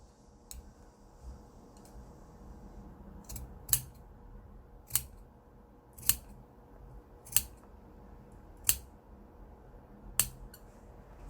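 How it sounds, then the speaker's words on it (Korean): Scissors snip through the fabric seam allowance of a sleeveless blouse being sewn, about seven crisp, close cuts spaced roughly a second apart over a quiet background. "이제 여기 중심을 바싹 가위밥을 주시면 됩니다."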